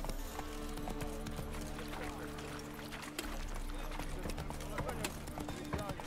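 Roach, a horse in The Witcher 3, galloping with steady rapid hoofbeats under game music and background sound, with voices talking at times.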